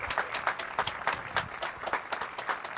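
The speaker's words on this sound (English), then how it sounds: "So a big round of applause for Mayor Willie Brown." Applause from an audience at a San Francisco mayoral press event announcing Bayer HealthCare at Mission Bay, a steady patter of many hands clapping at moderate distance with no talk over it.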